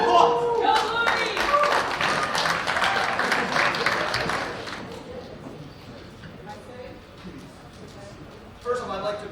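Audience applause at a Junior Achievement event, a dense burst of clapping for the first five seconds that then fades into low crowd murmur, with a brief rise near the end.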